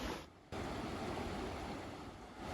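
A river flows with a steady, faint rushing wash of water and some wind, continuous and without voices.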